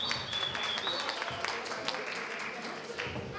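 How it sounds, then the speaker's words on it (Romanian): Audience at a Christmas fair at a monastery clapping for a performer, a brief burst of applause heard at moderate distance with light background noise. "Să o aplaudăm!"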